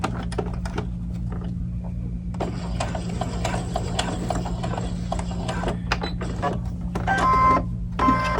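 A sewing machine stitches a doll dress seam in short bursts of quick mechanical clicking and whirring, pausing between runs as the fabric is turned, over a low steady motor hum.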